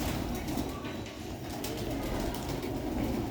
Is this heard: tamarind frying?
no